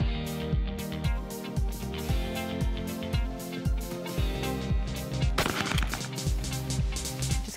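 Remington shotgun shells fired at an outdoor shooting range, a steady rhythmic series of loud sharp blasts roughly every half second, close to the microphone with no talking.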